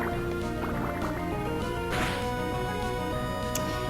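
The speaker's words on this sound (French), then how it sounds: "Pistolet à eau, allez." Water Gun attack effect from Pokémon Emerald, a splashy, bubbling gush of liquid layered over chiptune game music, with a bright splash burst midway.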